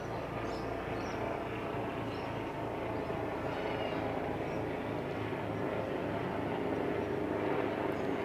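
A 7 News helicopter flies over a novice carnival, heard as a steady, continuous engine and rotor drone at moderate distance that holds even throughout.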